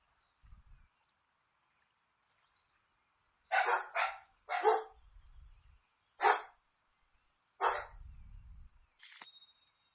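Several dogs bark in short bursts, loud and close, with single sharp barks and quick double barks spread unevenly across the stretch and quiet gaps between them.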